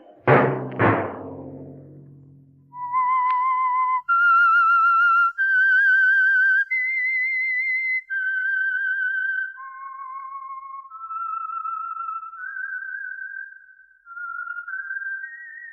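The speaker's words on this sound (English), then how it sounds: "Let that whistle be your signal for the Signal Oil program" A whistled radio-program signal tune from a 1947 broadcast, sustained, wavering notes following a brief thump, rises and falls clearly and alone for several phrases.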